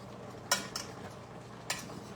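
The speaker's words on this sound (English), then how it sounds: "We're gonna stir these potatoes around." Potatoes are stirred in a pan: a few sparse, quiet metallic clinks of a utensil against the cookware, three distinct taps over a soft background.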